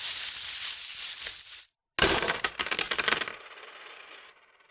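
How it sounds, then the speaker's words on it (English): Gold ryo coins jingle and scatter across a wooden stage floor after a pouch is slammed down, a loud metallic cascade that breaks off briefly, then bursts again into bright clinking that thins and fades out. "The jingling of coins preceded a scatter of ryo, the shining glints of gold unmistakable even in this faint light"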